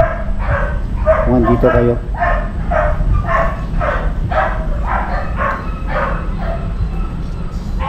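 Several dogs bark repeatedly in an abandoned house, with yips and bow-wows, loud and close, while a person talks over them.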